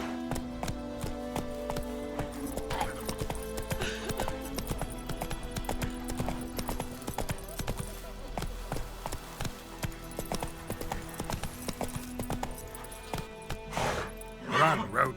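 Roach, a horse in The Witcher 3 video game, gallops with steady clip-clop hoofbeats over game music and ambience, with a brief spoken shout near the end.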